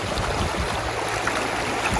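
A hiker wades through the Gila River along a trail that runs straight into the water, with a constant close rush and churn of flowing water, low sloshing underneath and no voices.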